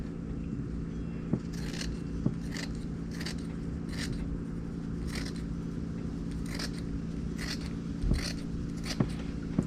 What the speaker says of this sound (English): I'm going to cut it about an inch away.